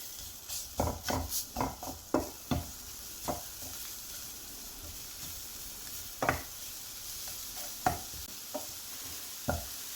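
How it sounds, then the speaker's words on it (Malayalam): Banana snack mixture with dates and cardamom powder stirred in a pan, a quick run of spoon scrapes and knocks followed by sparse single strokes over a faint sizzle. "ഏലക്കാപ്പൊടി കൂടി ഇട്ട് കൊടുത്ത് നമുക്ക് ഒന്ന് ഇളക്കി കൊടുക്കാം"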